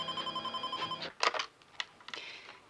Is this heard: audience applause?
no